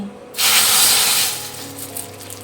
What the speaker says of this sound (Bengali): এবার শুধু ফোড়নটা দিয়ে দেব শুকনো লঙ্কা রাঁধুনি আর এর মধ্যে একটু কালো জিরেও দিয়েছি